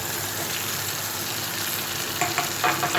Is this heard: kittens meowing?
no